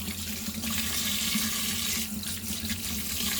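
A tap runs steadily into a sink while something rusty and dirty is rinsed, a continuous close splashing rush with small shifts as the item moves under the stream.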